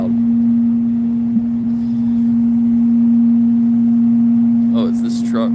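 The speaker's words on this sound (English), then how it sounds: "Oh, it's this truck." A loud truck on a street outside a turkey slaughterhouse holds a steady, droning engine rumble close by for the whole stretch, and a voice briefly cuts in near the end.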